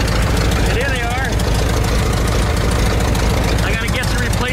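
A 1972 VW Beetle engine runs loud and close with a steady, slightly knocking idle, and a voice briefly sounds over it.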